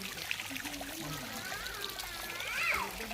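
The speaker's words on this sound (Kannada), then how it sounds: "ಇಲ್ಲಿ ನೀರು ಬರ್ತಾ ಇದೆ ನೋಡಿ ಬೆಟ್ಟದಲ್ಲಿ" Water streams down the rocky hillside at Srisailam's Paladhara Panchadhara, the sacred spot where Adi Shankaracharya meditated, a steady splashing trickle heard close by with voices talking over it.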